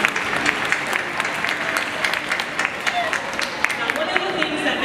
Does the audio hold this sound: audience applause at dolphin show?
yes